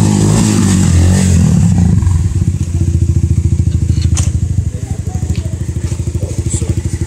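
A motorcycle engine idles, then settles into a loud, steady rapid putter with rhythmic pulsing, close by, with no talking.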